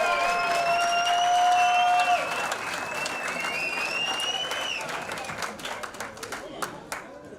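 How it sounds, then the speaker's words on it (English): A comedy club crowd at a stand-up semi-final claps and cheers for an audience member invited on stage, loud sustained applause with whoops and whistles, thinning into scattered claps as talk resumes. "Give a round of applause,"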